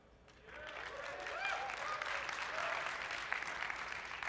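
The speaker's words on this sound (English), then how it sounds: "I'm so glad you clapped at that" Audience clapping at a live Premiere Pro CC software demo, a dense burst of applause that swells quickly and holds steady and loud throughout, filling the hall.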